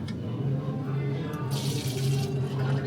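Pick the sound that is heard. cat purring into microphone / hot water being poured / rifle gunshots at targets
hot water being poured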